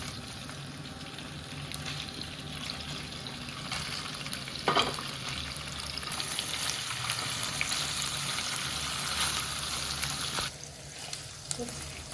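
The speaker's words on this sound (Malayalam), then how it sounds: "ഇതിലേക്ക് പനീർ ചെറിയ കഷ്ണമായിട്ട് മുറിച്ചതൊന്ന് ഫ്രൈ ചെയ്തെടുക്കാം" Small cut paneer pieces frying in hot oil in a pan, a steady crackling sizzle that runs throughout with occasional stirring clatter, fairly quiet and close.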